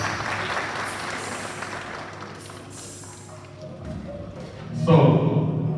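At a Punjabi cultural fair in Parma, Italy, an audience claps in a steady wash that gradually fades as a voice speaks over it and then carries on alone.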